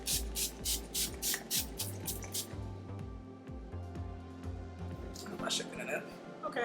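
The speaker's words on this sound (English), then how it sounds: "And now we're gonna spray." All Nighter Ultra Matte makeup setting spray pumped in a quick series of about eight close, sharp hissing spritzes, followed by a couple more later, with a person talking throughout.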